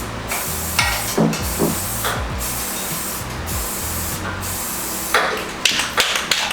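Repeated hissing bursts from a can of red spray paint on the body and fenders of a 1979 Odyssey FL250, several short sprays separated by brief pauses, loud and close, with a few light clicks and taps between.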